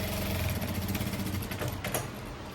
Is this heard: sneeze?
no